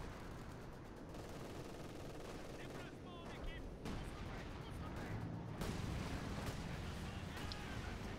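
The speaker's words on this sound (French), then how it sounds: "elle part dans des bombardements de la part des deux camps" Bombardment and gunfire in the strategy game Company of Heroes 2, a continuous dense wash of distant shelling and scattered shots with a few sharper crackles and bursts near the end.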